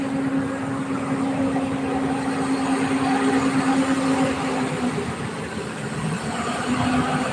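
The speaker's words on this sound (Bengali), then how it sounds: "এই দেখো বোট যাচ্ছে।" A boat engine drones steadily as the boat passes nearby, a continuous low hum with a faint tonal whine that holds throughout.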